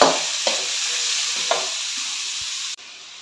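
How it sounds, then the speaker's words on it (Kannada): Onions and tomatoes frying in a pan on a medium flame, a steady close sizzle with a few soft stirring scrapes, ending abruptly. "ಮೀಡಿಯಮ್ ಫ್ಲೇಮಲ್ಲಿ ಇರೋ ಈರುಳ್ಳಿ ಟೊಮೊಟೊ ಇದನ್ನೆಲ್ಲ ಚೆನ್ನಾಗಿ ಫ್ರೈ ಮಾಡ್ಕೊಳ್ಳೋಣ"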